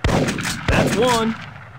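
Two loud gunshots ring out in the Big Buck Hunter Pro hunting video game, about 0.7 seconds apart, each with a reverberant tail, and a brief game tone follows.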